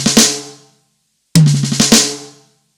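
Two short drum fills built on a six-stroke roll, each opening on the first tom, land as quick clusters of close, punchy hits with a brief silence between them and a cymbal wash decaying after each.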